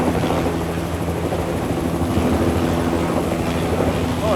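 Helicopter landing on a heli-pad by a dry creek, a steady loud rotor thump and engine whine directly overhead, constant throughout.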